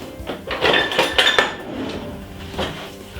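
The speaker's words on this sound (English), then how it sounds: "Give it a stir." A spoon stirs rice and peas in a metal pot, making a quick run of close clanks and scrapes against the pot, then a pause and one last knock.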